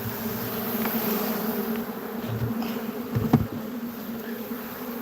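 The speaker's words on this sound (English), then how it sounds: "Look at all them bees." A swarm of Russian honeybees buzzes steadily inside a swarm trap, a dense continuous drone close to the microphone, with a few louder bumps partway through.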